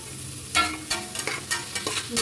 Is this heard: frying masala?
yes